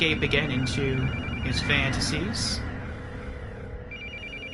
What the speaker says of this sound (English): Now the phone starts to ring.